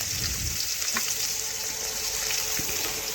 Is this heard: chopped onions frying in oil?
yes